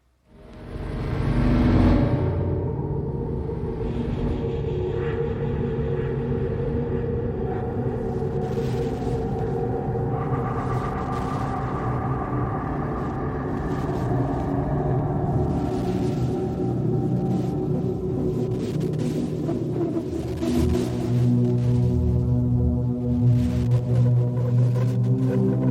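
A modern, dark rendition of a song plays continuously, a dense rumbling bed of low sustained tones with layered synth textures building gradually, heard alone without speech.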